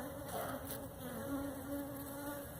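Honeybees buzzing at an ugly hive while being primed to feed, a steady close insect drone with a continuous hum throughout, no voices.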